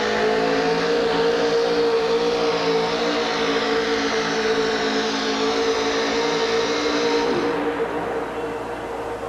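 A monster truck with a big block Ford 572 cubic inch engine roars at sustained high revs in a racing arena, loud and steady, easing off slightly near the end.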